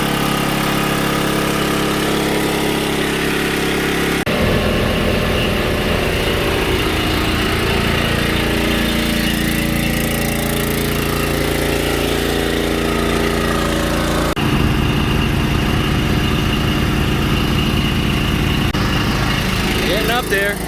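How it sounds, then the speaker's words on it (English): An old generator, freshly running after its carburetor was cleaned, holds a steady mid-pitched engine drone with a continuous buzzing idle that stays loud and even throughout, with brief shifts in tone partway through. "That old generator kicking around. I cleaned the carb and got going, so I'm testing that out."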